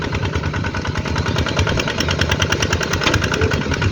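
A tractor engine working a flooded lowland rice paddy, a loud, close, steady mechanical drone with a fast rapid chugging pulse throughout and no voices.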